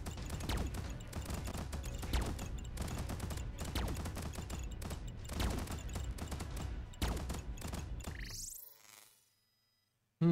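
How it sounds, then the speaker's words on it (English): Rapid, continuous bursts of a video game laser scatter cannon, a dense stream of zapping shots that abruptly cuts off, leaving a brief electronic swoosh at the end. "Laser scatter cannon fires a projectile that splits into multiple smaller ones."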